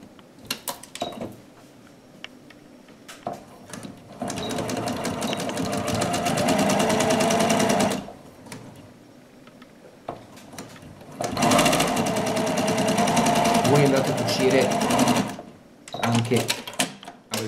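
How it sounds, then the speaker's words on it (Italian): A sewing machine stitches a straight seam joining knitted fabric pieces, running loud and close in two long bursts of rapid whirring, with quiet handling noises and brief talk in the gaps. "Andiamo poi ad unire la lettera B con la C, sempre cucitura dritta."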